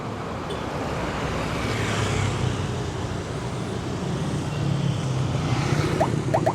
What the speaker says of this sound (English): Traffic, which is not too bad today actually.